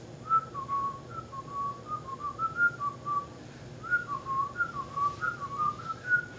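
A man whistles a lilting, wandering tune solo, imitating a twelve-ish boy whistling his way through the woods, with short phrases rising and falling and brief pauses between them.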